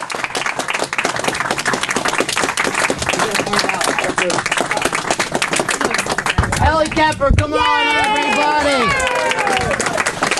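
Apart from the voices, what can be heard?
audience applause and clapping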